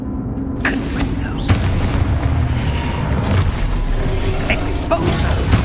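A Confringo spell explosion in Hogwarts Legacy lands with a deep boom, followed by rumbling blast debris and scattered sharp impacts from ongoing combat in the game.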